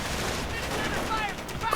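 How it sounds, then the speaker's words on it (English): Rapid auto cannon fire from a heavy armored car in a war video game, a dense continuous barrage of bursts with battlefield noise filling the whole moment. "And now the heavy armor car with its auto cannon delivers"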